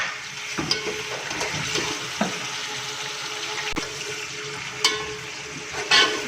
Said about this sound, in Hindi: इसको अच्छे से फ्राई कर लूँगी।